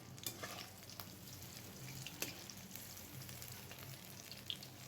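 Crispy nimki made with Malabar spinach leaves frying in hot oil over medium heat, a steady close sizzle with scattered crackles and pops running throughout, no voices.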